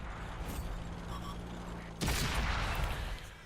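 Tank cannon fire in a tank battle video game, with a Panther and an M4 tank named: a steady low mechanical rumble breaks into a loud, broad blast about two seconds in that rolls on as a sustained roar.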